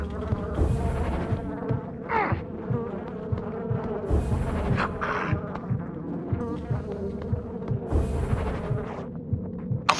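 Bees buzz in Far Cry 5, a steady insect drone with pulsing swells, repeating every few seconds over a low throbbing background, fairly close with no talking.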